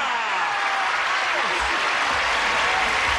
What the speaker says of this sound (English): let's begin by asking these lovely people to give our stars a big round of applause